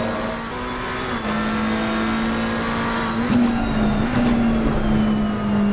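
A GT3 race car engine from a racing game at Paul Ricard holds a steady high drone, with a few quick rev changes and gear shifts, loud and continuous with no talking.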